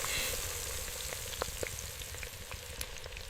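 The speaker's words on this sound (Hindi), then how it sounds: "शौहर गुड़िया मसाले लगी 2 पूरी मुर्गियां कढ़ाई के खोलते तेल में डाल रहा है।" Two whole spiced chickens frying in hot mustard oil in a wok, with a steady close sizzle and scattered small pops and crackles, no voices.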